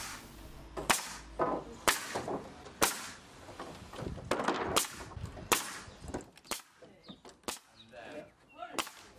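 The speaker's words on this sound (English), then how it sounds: "more cladding with the nail gun and matching the same overhang" Pneumatic nail gun firing while cladding the front of a wooden summerhouse shed, sharp snapping shots repeating at irregular intervals about a second apart, close and loud, with light handling noise between them.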